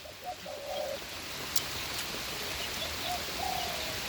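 Steady rain hisses throughout over flooded rice paddies in Khon Kaen, Thailand, with soft cooing birds calling faintly in the background.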